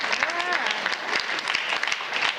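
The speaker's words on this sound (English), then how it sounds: "Well, clap it up for me." Audience applause answering a motivational speaker's call, a brief burst of claps with a voice speaking over the start, moderately loud and close.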